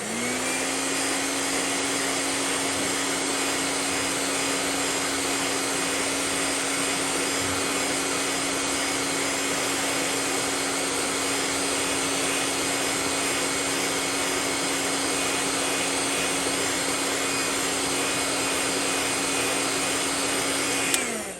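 A steady, loud blowing roar with a constant whine runs unbroken for about twenty seconds from a heat gun held close, drying paint.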